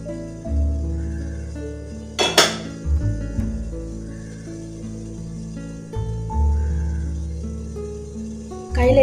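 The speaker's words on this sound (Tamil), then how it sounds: "இப்போ இட்லி சட்டி பார்த்தீங்கன்னா ஓப்பன் பண்ணி பார்த்துருவோம்" The metal lid of an idli steamer pot is opened with a sharp metallic clank and a few lighter clinks, set over a steady tonal musical background.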